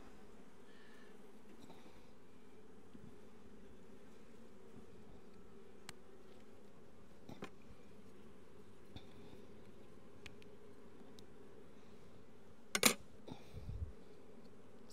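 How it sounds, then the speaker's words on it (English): Honey bees at a beehive give a faint, steady low buzz close by throughout, with a few brief louder knocks and handling clicks near the end. "so I'll get some nice fluffy nurse bees and put in there"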